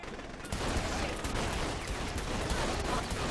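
Dense, continuous gunfire during a firefight with snipers in the video game Saints Row The Third Remastered, loud and unbroken once it kicks in after a brief quiet start.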